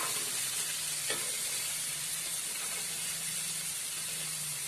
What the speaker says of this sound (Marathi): आता हे फ्राय करून घेते 5 मिनिटं व्यवस्थित.